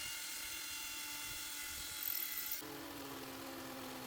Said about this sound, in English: So when I drill into brickwork, I often like to use a smaller drill bit, and I also turn the hammer function off to begin with